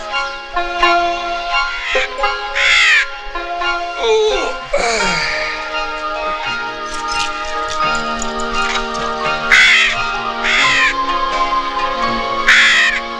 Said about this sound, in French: C'est un aigle chauve.